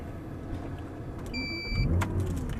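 An Audi R8 sports car's engine runs in a steady low rumble, a brief high whine enters midway and the engine grows slightly louder toward the end. No one speaks.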